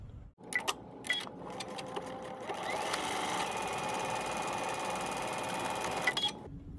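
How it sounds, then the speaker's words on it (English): A home sewing machine stitching a dart seam on a dress pattern piece, starting with a few short bursts before settling into a steady, close whirring run of several seconds and then stopping. "we'll take it to the machine and we'll stitch it 5/8 of an inch seam allowance there on that"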